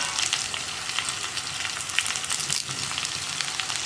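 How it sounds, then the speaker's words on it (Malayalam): Sliced onions and curry leaves frying in hot oil with ginger and garlic for a potato kadala curry, a steady crackling sizzle close up, without speech. "നമുക്കിനി ഇതിലേക്ക് സവോള ചേർത്ത് കൊടുക്കാം. ഇതിന് കൂടെ തന്നെ കറിവേപ്പിലയും ചേർക്കാം."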